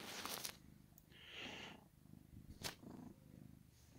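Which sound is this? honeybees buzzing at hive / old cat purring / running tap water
old cat purring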